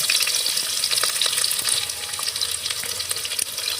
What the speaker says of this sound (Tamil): வெங்காயம் நல்லா வதங்க விட்டுறலாங்க.